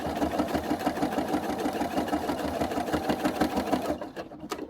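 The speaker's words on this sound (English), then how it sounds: "You can hear this needle's a bit clunky because it's blunt already." Domestic sewing machine with a blunt needle driving through thick quilted fabric and synthetic wadding, a steady clunky rapid stitching rhythm, close and loud, stopping just before the end.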